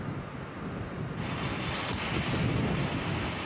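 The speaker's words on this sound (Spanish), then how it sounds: "las grandes tormentas procedentes de la Antártida envían unas inmensas olas contra sus costas" Large ocean waves driven by Antarctic storms crash against an island coast, a steady roaring surf with wind buffeting the microphone and a slight swell in loudness toward the end.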